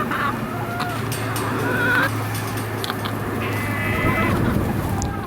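Chickens on a farm at feeding time, with chicken mash being put into troughs: steady overlapping clucks and squawks from a flock, close by and continuous, with one brief higher call standing out.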